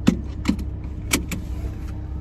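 Inside a car, a few sharp clicks and rattles like keys or door and seat handling sound over a low steady engine hum, close and brief, with no voices.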